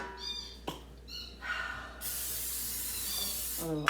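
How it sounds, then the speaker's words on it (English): Olive oil cooking spray hisses from a can for a steady second and a half, close by in a home kitchen, after a few scattered light clinks and knocks. "A little olive oil spray."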